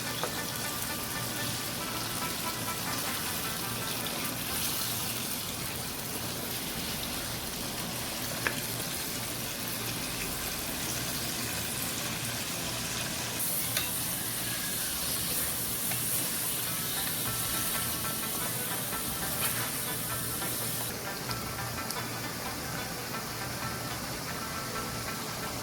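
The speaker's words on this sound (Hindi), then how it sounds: "अब हम चिकन को अच्छी तरह से ऑयल में फ्राई कर लेंगे।" Chicken frying in oil in a karahi, a steady close hiss of sizzling throughout with occasional small pops and crackles.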